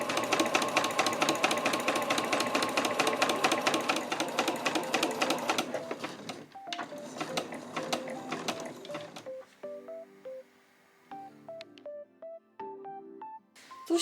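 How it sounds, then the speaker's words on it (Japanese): A sewing machine back-stitches a small fabric trunk-style key case, its rapid mechanical whir steady and close for several seconds before breaking into short bursts and pauses as the stitching slows. "それでは1センチほど先に針を下ろして返し縫いからスタートしていきましょう。"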